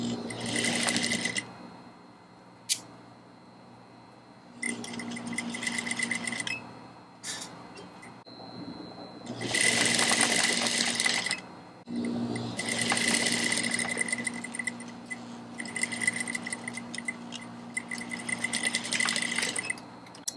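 An industrial sewing machine stitches a leather corset in several close, loud bursts of rapid steady whirring, separated by short quiet pauses as the fabric is repositioned.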